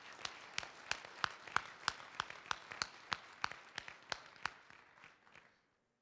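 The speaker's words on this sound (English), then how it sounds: "please join me in a round of applause to congratulate Wendell Ricard." A crowd claps through a round of applause at a USSSA Hall of Fame induction ceremony, the clapping steady and sharp before thinning out and stopping near the end.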